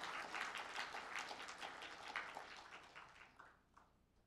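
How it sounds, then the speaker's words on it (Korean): Audience applause fills the hall at the 2017 Korea Local Autonomy Development Awards ceremony, a dense steady patter of many hands that thins and fades toward the end. "멋진 고향을 보여준 두 팀에게 뜨거운 박수 부탁드리겠습니다"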